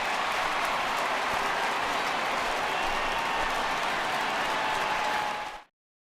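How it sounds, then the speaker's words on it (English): A home baseball crowd in the MLB The Show 20 video game gives a departing pitcher a loud, sustained ovation of applause that cuts off abruptly near the end. "he receives a nice ovation from this home crowd"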